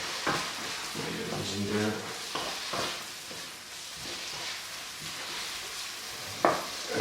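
Bacon and onions frying in a pan for a creamy pasta sauce, a steady sizzle with intermittent stirring scrapes and a sharp clack near the end, a short spoken phrase over it.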